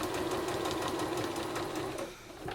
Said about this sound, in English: the teeth of your sewing machine will drag your fabric through